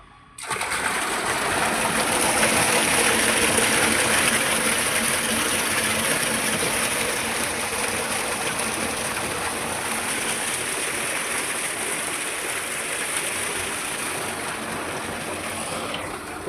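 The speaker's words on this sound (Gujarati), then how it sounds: "મિત્રો આજે બોર ચાલુ કરી દીધો છે આપણે નેચર પાણી ભરવાનું છે" A borewell pump runs steadily and water gushes out in a continuous rushing flow, loud and close, starting abruptly and holding an even level with no talking.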